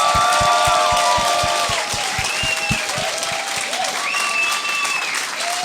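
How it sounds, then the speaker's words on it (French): Studio audience applauding and cheering to welcome two guests onto a talk show, sustained crowd clapping with a few whoops, fairly loud, over a rhythmic low thump. "J'aimerais ça qu'on leur donne une bonne main d'applaudissement"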